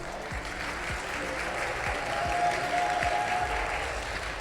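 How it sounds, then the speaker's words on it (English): Steady applause from an audience at the Baltics Gaming Expo 2025 stage, filling the hall as a semi-final runner-up team is welcomed, sustained and fairly even throughout with a faint tonal hum underneath. "Please give a round of applause and welcome the second semi-final runner-up team"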